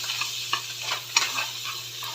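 Garlic dropped into melted butter in a pan for pork adobo with saba, a soft steady sizzle with brief stirring scrapes and clinks, close and alone with no talking.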